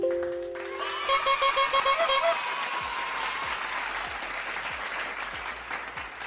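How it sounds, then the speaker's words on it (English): Applause on a podcast-style show swells from a short musical sting into a broad wash of clapping that stays steady and moderately loud for several seconds. "Let's give a round of applause, guys, for Snapper Nickel."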